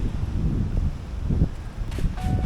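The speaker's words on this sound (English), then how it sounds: "It's a little bit windy here, but it is amazing." Strong wind blows across the microphone at an Indian Ocean shore, giving a continuous low rumbling buffet with gusty swells throughout and no talking.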